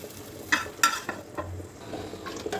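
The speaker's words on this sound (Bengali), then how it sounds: "এখন এটা মাংসের মধ্যে ঘাটির মধ্যে ঢেলে দেবো।" Hot mustard oil tempered with bay leaf and garlic goes into a beef and potato curry, producing a few quick sizzling bursts and metallic stirring clinks that are fairly quiet and close.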